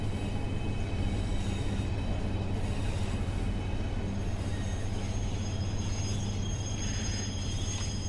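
A Pacer train in Transport for Wales livery rumbles past in a railway sim, a steady low drone of engine and wheels holding at even loudness throughout, with faint high squeal tones above.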